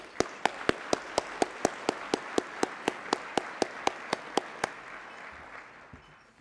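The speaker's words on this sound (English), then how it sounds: "Let's give our sponsors a round of applause." Applause for sponsors at an economic development board's annual meeting comes as about nineteen crisp, evenly spaced handclaps in a steady rhythm, fairly close and isolated, then a brief quiet tail.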